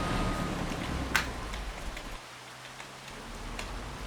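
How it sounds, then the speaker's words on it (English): Steady rain falls in Farming Simulator 25, a dense continuous hiss with a sharper drop or tick near the start, fairly loud throughout with a brief dip in the low rumble midway. "Here's the rain. Dreaded rain."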